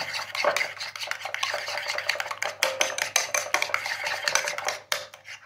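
A spoon stirs ketchup with a pinch of black pepper and salt into a spicy sauce for French fries, giving continuous close scraping and clinking against the bowl with no talk.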